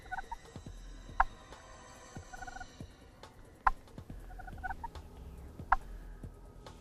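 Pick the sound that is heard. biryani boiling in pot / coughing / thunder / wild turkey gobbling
wild turkey gobbling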